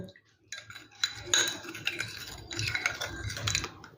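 A spoon stirs coffee powder and sugar into a little hot water in a bowl, making quick, close metallic clinks and scrapes in steady bursts, with no voices.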